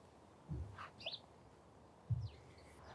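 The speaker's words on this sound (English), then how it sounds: "The sparrows are chirping in the beech hedge." Sparrows give a few short, scattered chirps from a beech hedge in an English front garden in April, soft and slightly distant over quiet background hiss.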